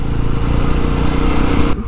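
Yezdi Roadster motorcycle on a first ride along a coastal road, its engine thrumming steadily and loudly up close throughout, with no talk, cutting off abruptly near the end.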